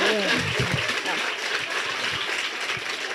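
Lecture audience clapping at a conference seminar on women and cities, a dense, steady wash of applause that fills the whole stretch at even loudness.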